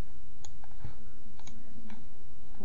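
Computer mouse buttons click a handful of times, sharp close ticks spaced irregularly over a steady low hum, with no talking.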